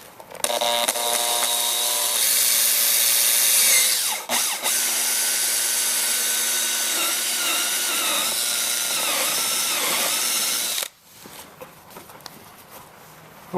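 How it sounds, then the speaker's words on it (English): A power drill bores a hole into the overhead console of a Toyota Tundra truck, whirring loudly and close for about ten seconds before stopping abruptly, leaving quiet handling sounds. "now we need to drill this 1/7 inch hole into our overhead console right here."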